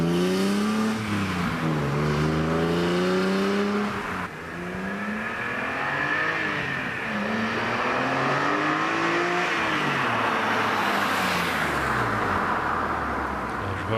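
A BMW E46 M3 with the S54 straight-six and a Meister shaft exhaust, revving repeatedly as it accelerates through gears, pitch sweeping up and falling back, loud and close with a raspy tone and road noise underneath.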